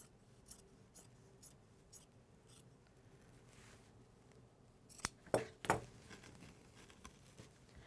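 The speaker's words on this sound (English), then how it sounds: "Start from the sleeve or the neck end, it doesn't matter, and just cut all the way across." Scissors snipping across a cotton T-shirt, a few quiet cuts early on and then a louder cluster of sharp crunching snips near the end, close and with no talk.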